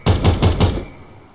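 A gun in Minecraft fires four quick, loud booming shots in an even rapid burst, then a short fading tail with no voices.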